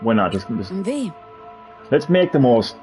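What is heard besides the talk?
No everyday noise stands out behind the speech.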